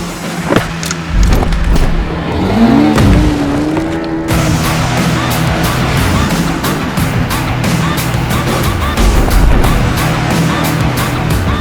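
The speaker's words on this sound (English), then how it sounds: "The result is this screamer of an engine." A 312cc TVS Apache RR310 motorcycle engine revs hard and close, a loud sustained buzzing drone with rising pitch sweeps and sharp rhythmic pulses throughout.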